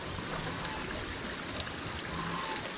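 Water runs through a pipe into a goose bathing pool in a steady, continuous gush with a faint trickling texture, close by and unbroken for the whole stretch.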